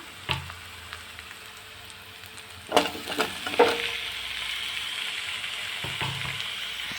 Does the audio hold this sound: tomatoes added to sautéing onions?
yes